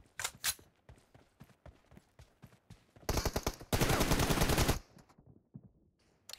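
Video game shooter gunfire starts as scattered single shots, then turns into a loud, dense burst of rapid automatic fire that lasts over a second before it stops.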